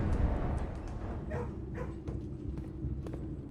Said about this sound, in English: Why am I hearing dogs?